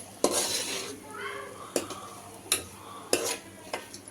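Ingredients for a mint and gongura egg biryani being stirred in a pot, a spoon scraping and clinking against the metal in several sharp strokes spaced about a second apart over a soft sizzle.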